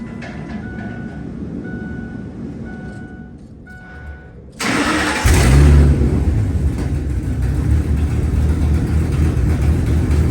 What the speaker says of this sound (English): Make a video of this truck starting up